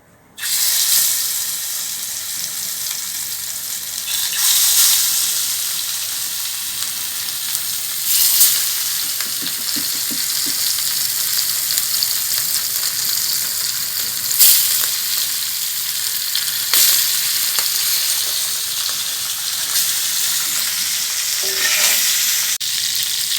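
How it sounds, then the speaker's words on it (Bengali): Rohu fish pieces frying in hot oil over a low flame, a loud steady sizzle filling the whole stretch, with occasional clinks of a utensil against the pan. "এখন আমি মাছগুলো ভেজে নিতেছি"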